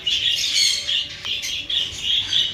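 A breeder hen squawks in a run of harsh, bright calls, several bursts with brief pauses between them, close and fairly loud with no talking.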